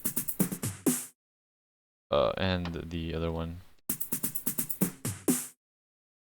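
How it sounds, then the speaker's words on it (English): Stock FL Studio drum patterns forming a drum intro: quick bursts of crisp hits in two short runs, separated by a brief spoken line. "The drum intro are consisted of just normal drums from the packs from just the stock FL Studio drums"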